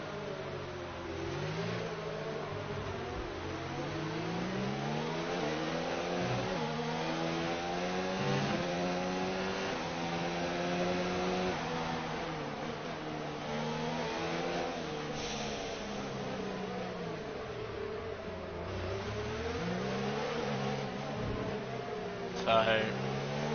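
An F1 2019 racing game car engine revs and shifts continuously, its pitch climbing and dropping with gear changes and corners over a long stretch, loud and steady throughout.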